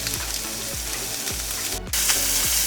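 Spam slices frying in a pan on a loud stovetop, giving a steady, dense sizzle throughout with no talking, plus a low, repeating swooping hum from the stove running underneath.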